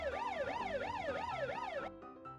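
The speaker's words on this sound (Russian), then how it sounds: "Конечно же, пожарная машина." A fire engine siren wails in a fast, regular rising-and-falling cycle, loud and close, then cuts off abruptly into quiet.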